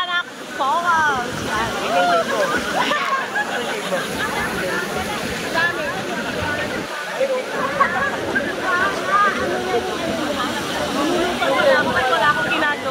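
Daranak Falls in Tanay, Rizal, a constant broad rush of falling water close by, with people talking and calling over it throughout.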